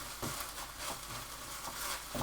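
Beans stirred evenly into a Thai pork stir fry, giving a steady close sizzle of frying food with soft scraping stirs recurring every half second or so, no talk.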